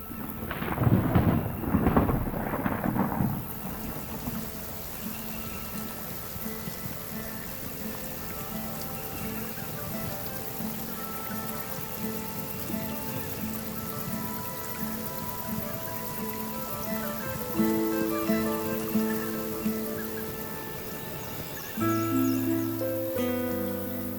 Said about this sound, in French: la pluie s'est installée sur Noirmoutier